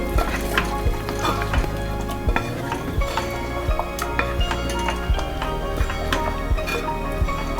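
Mutton masala in a pan, thinned with about half a cup of water, is stirred and fried. A spoon scrapes and clanks against the pan in repeated strokes over a steady close sizzle.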